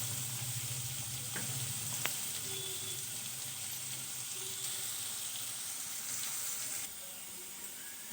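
Banana flower fries in a pan with a steady, soft sizzle that runs evenly throughout, joined by a few light clinks of a utensil and no talk.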